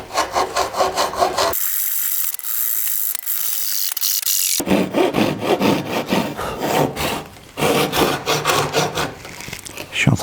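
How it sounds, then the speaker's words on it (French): A Japanese hand saw rasps through a wooden workbench in quick, rhythmic back-and-forth strokes, close and loud, pausing briefly before resuming. "Je suis en train de scier l'établi"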